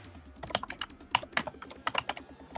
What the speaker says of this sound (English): God, you're thumping away merrily on that keyboard